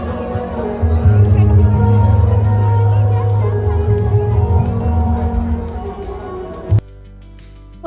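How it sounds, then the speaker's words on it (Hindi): Dense crowd babble fills a busy university fiesta, a steady loud wash of many voices and bustle that cuts off abruptly near the end into a quieter hum. "यहाँ पर बहुत ज़्यादा भीड़ हो चुकी है इस टाइम पे"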